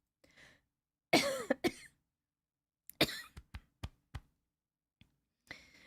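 Several sharp coughs, one heavy burst followed by a quick string of shorter ones, close and loud against quiet.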